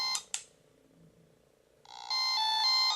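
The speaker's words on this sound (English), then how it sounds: "Sorry for the loud beeping." Two short sharp electronic chirps from a Gamer V Portable 220-in-One handheld playing a Snake game, then after a pause a loud, sustained electronic tone with bright harmonics, close up and alone.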